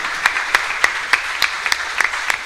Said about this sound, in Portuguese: dê uma salva de palmas para esse Deus maravilhoso